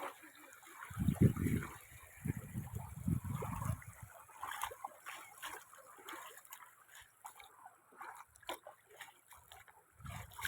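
Water trickles and splashes steadily, with louder gushing bursts early on and a softer continuous flow afterward.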